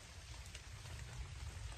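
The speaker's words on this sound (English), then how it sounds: "Hopefully this rain will help a little bit" Rain falling on a hiking trail along the Appalachian Trail, a soft, even hiss of drops pattering on the ground and foliage, faint and steady with scattered closer taps.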